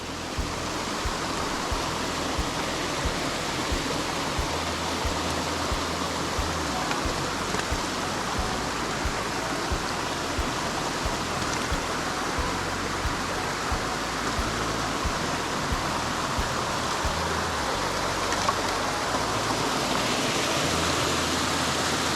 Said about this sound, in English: The waterfalls, the sound of them is so relaxing